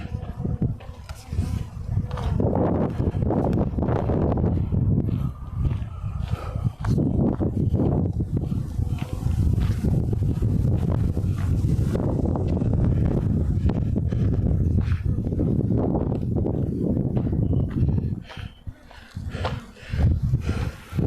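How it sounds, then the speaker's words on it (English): Loud, rumbling wind buffets the microphone in sustained gusts while a DJI Mini 4 Pro drone flies, easing briefly near the end, with faint thumping underneath. "It was a pretty strong gust just now."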